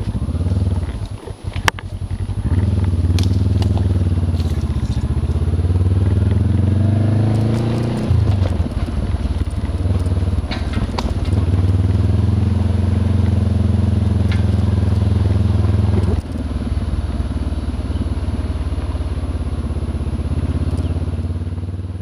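A heavily loaded Honda CB500X motorcycle rides steadily, its engine droning loud and close with wind noise. Pitch rises and falls through gear changes, and there is a brief dip partway.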